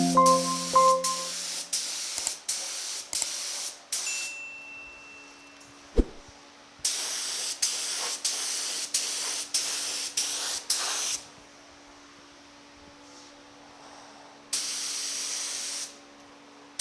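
Spray gun laying a coat of red paint on a truck fender: loud, close bursts of hissing spray in rhythmic passes, broken by short pauses and longer silent stretches, with a sharp click partway through.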